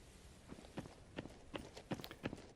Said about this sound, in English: as he transitions from past 60 metres, his footsteps get a little bit louder